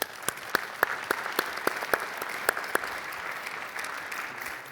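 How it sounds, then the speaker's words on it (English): Scattered applause with several sharp, distinct claps standing out over a softer background of clapping from a small crowd. "let's give our sponsors a round of applause"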